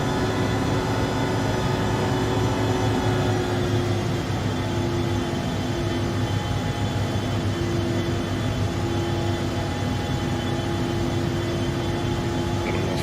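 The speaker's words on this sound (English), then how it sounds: "Gears coming up." Landing gear of a BAe 146-300 airliner retracting in the X-Plane 11 flight simulator, heard beneath a steady loud roar of jet engines and cabin hum that continues throughout.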